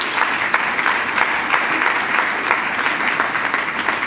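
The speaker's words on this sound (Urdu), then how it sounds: "موقع دیں, ہم تالیاں بجائیں گے." A church congregation claps during a Second Sunday of Advent worship service, a sustained round of applause with a brisk, steady beat of many hands at moderate distance and no talking.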